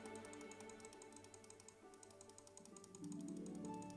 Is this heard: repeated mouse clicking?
yes